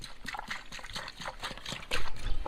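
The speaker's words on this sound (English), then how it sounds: "Tip a bit of water in your hole, guys" Water tipped into a dug fence post hole before mixing cement, uneven splashing and trickling pulses that grow louder and gushier toward the end, close by and without talk.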